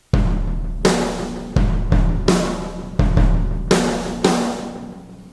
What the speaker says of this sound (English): So, all by itself, the sample room mics I'm using sound like this.